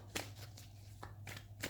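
Tarot cards being shuffled by hand in a quiet room, giving several short papery riffles and flicks at irregular intervals over a steady low hum.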